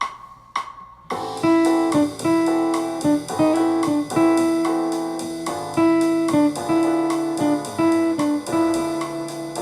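Clean jazz guitar plays a gentle melody with soft chordal notes, starting after a brief pause and continuing at a steady, relaxed pace, alone without voices.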